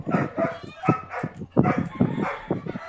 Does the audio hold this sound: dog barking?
yes